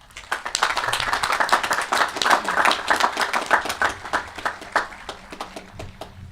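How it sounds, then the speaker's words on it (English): Applause from the audience at a high school graduation commencement, a moderate patter of clapping hands with distinct individual claps that rises and gradually thins out. "Let's give them a round of applause."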